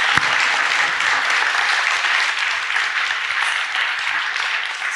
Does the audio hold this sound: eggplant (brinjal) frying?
no